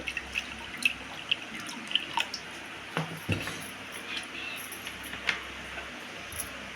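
Water poured into a cooking pot after washing, for boiling blood in a village-style curry, heard as scattered close drips and splashes with light clinks over a quiet background.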